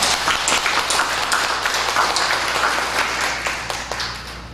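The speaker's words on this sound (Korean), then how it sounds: "박수 한번 하겠습니다." Applause from a church congregation fills the space, a dense steady patter of many hands clapping at moderate loudness that tapers slightly near the end, with no voices over it.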